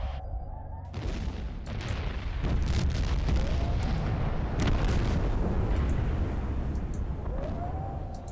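Artillery strike in the video game Carnivores Divergent, a heavy sustained rumble of explosions and booming blasts with scattered sharp cracks, loud and continuous over several seconds, with no talk.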